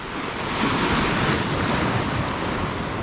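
Ocean waves wash onto a beach in Khao Lak, Thailand, a continuous broad surf roar mixed with wind buffeting the microphone, steady and fairly loud with no talking.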